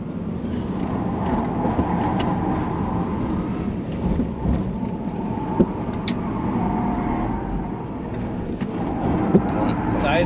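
Tesla Model S Plaid Track Pack driven hard on the Nürburgring, a steady loud electric-drive and road roar with tire noise throughout, people talking over it inside the cabin.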